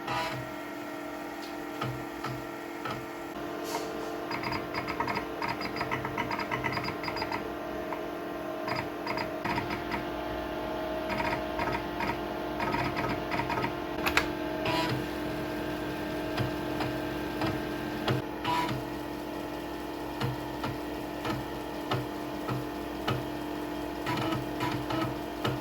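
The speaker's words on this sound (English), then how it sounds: "Hearing the sound of disk drives reading and writing data." A vintage computer disk drive reading and writing data gives a steady mechanical whir laced with soft intermittent ticks and clicks, close by and continuous with no talking.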